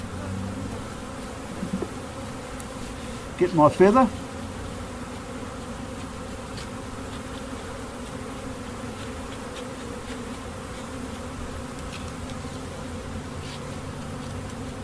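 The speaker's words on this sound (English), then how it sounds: "So the first thing we do is gently shake all the bees off." Honey bees buzzing on a hive frame during varroa drone-trap work, a steady close swarm hum throughout, with a brief louder buzzing flare near the start and a short spoken remark.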